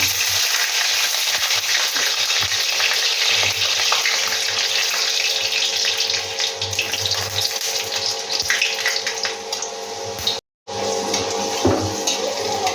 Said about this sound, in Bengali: এবার আমি পেঁয়াজটাকে, রসুনটাকে এবার ভেজে নেব। আগে রসুনটা দিয়ে দিচ্ছি।